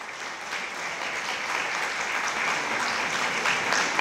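An audience at a youth awards gala in Mielec claps steadily for a primary school's pupils and teachers, a continuous moderate ovation that swells slightly toward the end.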